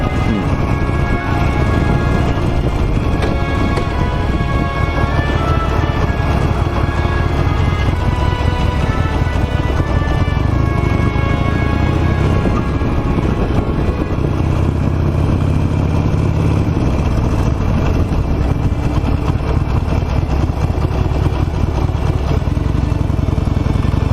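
A 17-year-old Harley Davidson Nightster motorcycle being ridden, its engine a steady, close, continuous drone with wind rush that holds at an even level throughout.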